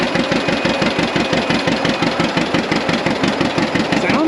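A two-cylinder tractor engine at a tractor show revs hard up close, its loud, steady pulsing exhaust beat filling the whole stretch.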